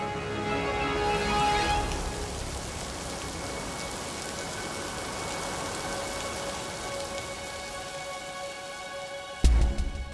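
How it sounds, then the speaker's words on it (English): Torrential rain pours down in a dense, steady hiss of drops hitting the ground, constant and loud, with a sudden sharp knock near the very end. "Then torrents of rain fall even far into the mountain ranges."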